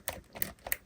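A NECA TMNT Wyrm action figure's ball joint clicks three times in quick, evenly spaced ratchety snaps as it is moved side to side, close up and crisp with no talk.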